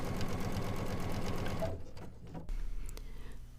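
Sewing machine running a straight stitch while the fabric is guided diagonally and sideways, a steady rapid mechanical whir that stops partway through, leaving a low hum and small clicks.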